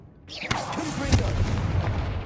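Confringo fire-blast spell in Hogwarts Legacy: a whooshing cast followed by two punchy booming hits, the second louder, with rumble trailing off briefly.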